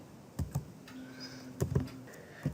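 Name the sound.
computer keyboard typing code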